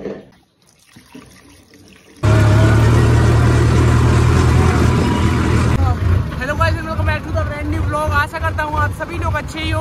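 A diesel tractor heading out to the fields starts up after a quiet moment, then runs with a loud, steady engine rumble while people talk over it.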